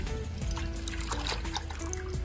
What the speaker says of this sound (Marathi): पातेल्याच्या तळाशी आपण टाकणार आहोत पाणी